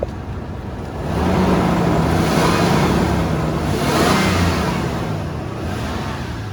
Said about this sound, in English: Go ahead and just rev the engine for a quick second.